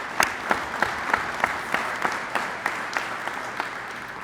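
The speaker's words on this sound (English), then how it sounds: "Let's give them a round of applause." Audience applause at a school ribbon-cutting ceremony, steady clapping from a modest crowd with a few louder individual claps standing out at a regular pace.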